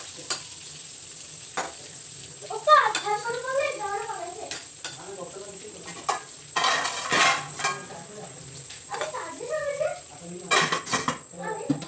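Brinjal frying in a pan at home, sizzling with frequent metallic clanks and scrapes of a utensil against the pan, and brief voice-like sounds in the background.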